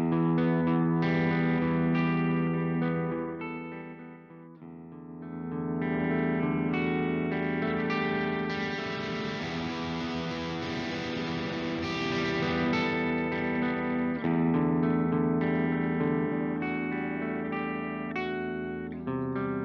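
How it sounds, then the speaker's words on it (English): Distorted electric guitar played through an Engl E580 MIDI preamp set to high gain, a loud, continuous stretch of heavy chords and riffs with a brief dip near the four-second mark, no voices. "Now let's find out how this preamp actually sounds."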